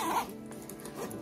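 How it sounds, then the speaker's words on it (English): A zipper being pulled shut on a small pocket of a Fjallraven 28 backpack, a single short close rasp that quickly fades into quiet room tone. "I'm gonna zip that up so y'all seen those two pockets."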